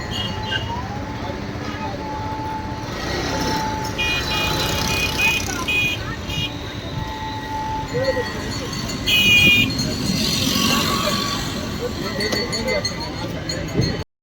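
Road traffic outside a temple hums at a steady level, with car horns tooting in short bursts over a continuous engine and road rumble, and voices in the background.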